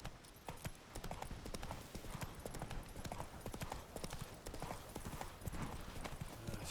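Roach, the horse in The Witcher 3, gallops with fast, dense hoof clip-clops in a continuous rhythm, fairly close and loud throughout.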